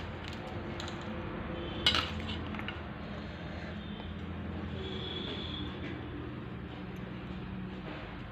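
Fruit, including cherries and pineapple crush, stirred into sweetened curd in a bowl, a faint, close wet squishing with a light spoon clink near the start, steady and quiet with no talking.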